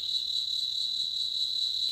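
A cicada drones in a steady, unbroken high-pitched buzz that holds at an even, moderate loudness throughout, with no voices or other sounds over it.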